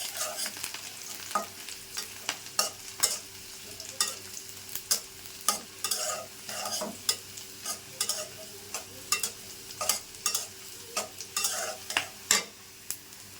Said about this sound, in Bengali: এই যে রসুনটা এইভাবে ভেজে নিতে হবে একটু তেলের সঙ্গে